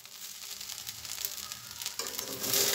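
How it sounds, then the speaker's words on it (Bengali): Broken rice with green chillies frying in a pan: a steady close sizzle with soft stirring scrapes throughout, growing louder and brighter near the end. "কাঁচামরিচ দেওয়ার পরে আমি 2 মিনিট নাড়াচাড়া করে নিব এইভাবে"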